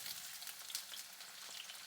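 Onions frying in olive and sesame oil, a steady close sizzle with faint crackles and no voices.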